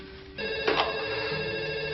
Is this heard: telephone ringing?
yes